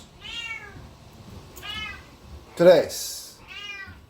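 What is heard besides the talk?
cat meowing loudly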